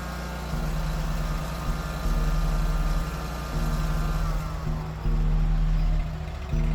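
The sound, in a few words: Wright mower engine revving up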